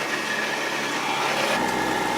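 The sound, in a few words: Ski-Doo Skandic 900 ACE snowmobile track and engine noise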